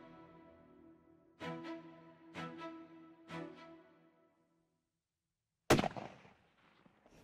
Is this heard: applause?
no